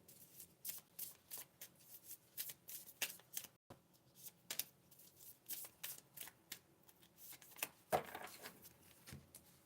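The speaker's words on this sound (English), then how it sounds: "we'll go ahead and start pulling cards for Capricorn" Oracle cards being shuffled by hand for a card reading, soft rapid riffling and flicking in uneven bursts, close and quiet.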